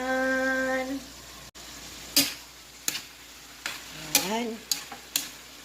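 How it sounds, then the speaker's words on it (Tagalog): Eggplant sautéing in a pan for ginisang talong makes a soft background sizzle, broken by sharp utensil clicks and scrapes. A brief tonal hum opens the sound, and a single short word is spoken partway through. "Naluto na gamay na lang kuwang sa atong ginisa nga talong"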